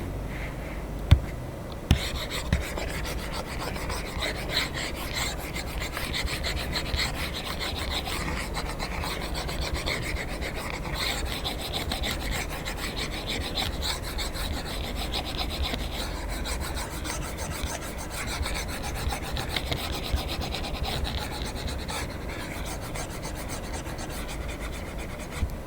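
A board is erased with a steady, continuous rasping rub that lasts throughout, close and even. A couple of light knocks come near the start, and no one speaks.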